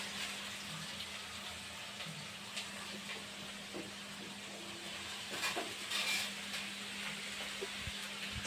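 Potatoes hit hot oil and sizzle in a steady broadband hiss, with scattered small pops and crackles rising in the last few seconds.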